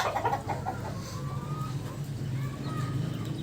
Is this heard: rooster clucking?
yes